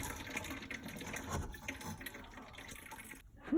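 Water siphoned out of a home fish tank during cleaning, a steady close gurgling trickle of draining liquid that runs for a few seconds before a brief gap and a louder splash at the end.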